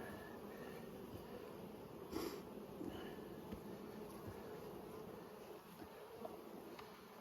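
Honeybees in an open brood box during spring hive management, a steady low buzzing drone that runs throughout at moderate level, with a brief louder swell of wingbeats passing close.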